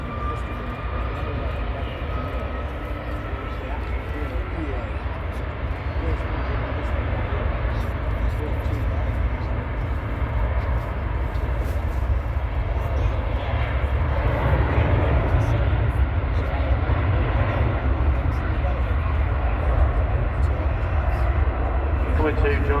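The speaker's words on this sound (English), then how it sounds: "Coming to join the queue of departures is yet another Ryanair, 737, this time on Max 8" A Ryanair Boeing 737 MAX 8 jet taxis at Manchester Airport to join the departure queue, its engines making a steady, loud broadband roar that swells slightly toward the middle and holds throughout.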